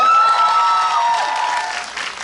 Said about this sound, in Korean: 축하의 박수 한번 드릴까요?